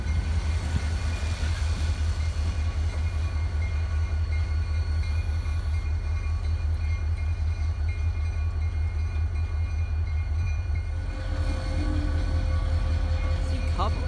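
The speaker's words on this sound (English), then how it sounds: "Those locomotives had just finished their shunting jobs and are being parked where the GP38-2s are" Diesel GP40-2 locomotives roll slowly into a CSX rail yard to park after shunting, giving a continuous heavy, low engine rumble at steady volume for the whole stretch.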